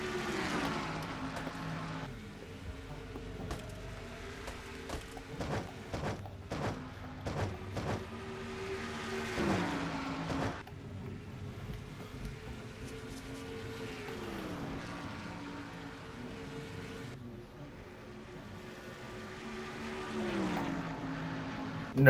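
Several stock race cars jostle in a six-car pack battling for sixth place in a NASCAR-style racing video game, engine tones droning and shifting in overlapping harmonic layers, with brief sharp bursts as cars pass close, steady and loud throughout without talk.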